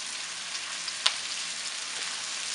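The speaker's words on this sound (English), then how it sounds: "Alright, so now I'm going to start adding my cabbage down in here." Cabbage sautéing in a pan with smoked sausage, giving a soft, steady sizzle like light rain with one brief sharp crackle partway through, and no voices.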